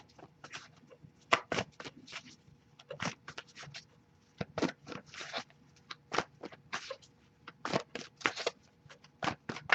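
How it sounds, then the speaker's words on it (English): Quiet, repeated bursts of cards being riffled and shuffled, with short pauses between each flurry. "I'll shuffle a little longer to see if we get a jumper"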